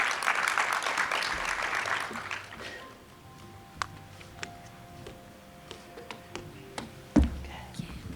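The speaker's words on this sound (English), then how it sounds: "Let's give Joanna a warm round of applause." A conference audience claps together for a few seconds, loud and dense at first, then fades into scattered taps and room rustle.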